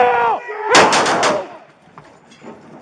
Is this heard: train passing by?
no